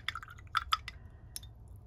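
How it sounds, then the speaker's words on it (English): A watercolour paintbrush swished and tapped in a water jar, giving a few quiet, close drips and clinks in short irregular bursts, alone without talk. "Or I can rinse out my brush"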